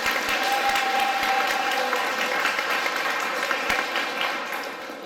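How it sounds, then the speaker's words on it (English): An indoor audience claps steadily at the opening of a magic venue in Limerick City, a dense sustained round of applause that slowly fades toward the end. "Give a big round of applause."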